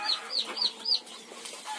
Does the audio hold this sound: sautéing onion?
no